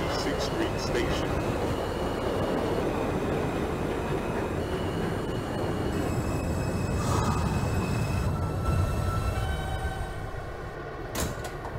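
An R160B Alstom subway car on a Manhattan-bound F local runs steadily in the OpenBVE train simulator, with a continuous rumbling roll, rattling wheels and whining motors, plus a few sharp clanks near the end.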